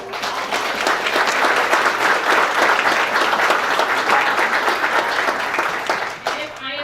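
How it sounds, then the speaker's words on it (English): Round of applause from the audience at a Joshua ISD Board of Trustees meeting, dense steady clapping filling the room for several seconds before tapering off at the end. "So I'm just going to ask for one more round of applause."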